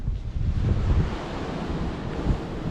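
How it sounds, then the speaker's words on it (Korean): Strong wind gusts buffet the microphone on the open Camino via de la Plata pilgrimage trail between Laza and A Gudiña, a steady low roar swelling and easing over a few seconds with no voices. "바람이 강하네"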